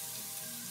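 Chopped onions hiss and sizzle in melted butter in a warming pan, a steady, faint, continuous frying noise with no voices.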